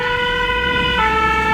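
Ambulance siren from a fire and rescue crew on Saint-Martin, a loud, close two-tone wail with bright stacked harmonics, shifting pitch about midway through, heard alone without talk.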